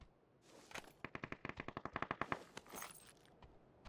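Rapid burst of submachine gun fire from a micro Uzi in PUBG: Battlegrounds, about fifteen sharp, evenly spaced shots in quick succession, close and loud, with no talk over it.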